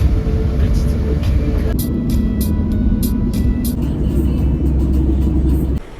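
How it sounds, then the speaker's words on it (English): Ride on a public bus to Ortaca in southern Türkiye: a loud, steady engine drone and cabin rumble fill the interior, with intermittent rattles and clicks, before the engine note drops away at the end. "we are taking this public bus to Ortaca"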